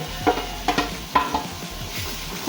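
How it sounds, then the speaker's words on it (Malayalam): Chopped tomatoes hit hot masala in a pan for a Kasaragod-style fried chicken biryani, giving a close sizzle broken by several sharp stirring scrapes and clinks at a steady pace, no voices. "4 തക്കാളി ചെറുതായി മുറിച്ചത് മസാലയിലേക്ക് ഇടുന്നുണ്ട്."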